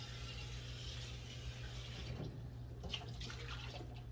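A tap runs faintly and steadily while chopped green peppers and onions are rinsed in a home kitchen, producing a soft, continuous wash of water with a few small clinks near the end and no talking.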